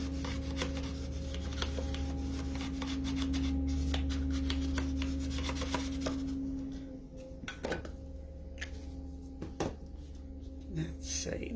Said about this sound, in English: Take your bone folder and give it a nice rub so that it sticks well.